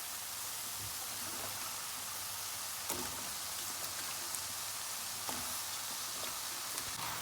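Zucchini hitting a hot pan in a home kitchen for a spicy zucchini dish, giving a steady, even sizzle like light rain with a few faint ticks and pops throughout, no talking over it.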